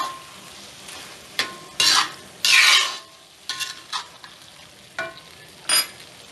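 Beef and broccoli stirred through gravy in a cast iron pan, with soft sizzling under a few scraping strokes and short clattering bursts of utensil against iron, close up and with no talking.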